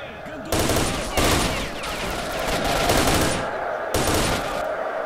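Rapid gunfire in the video game S.T.A.L.K.E.R.: Shadow of Chernobyl in loud, sustained bursts, with several volleys breaking off and starting again over a few seconds.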